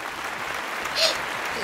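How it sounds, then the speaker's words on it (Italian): Brief applause sound effect, a steady hiss of many hands clapping at moderate level with no voices over it. "Qui parte un altro applauso per la mia pronuncia"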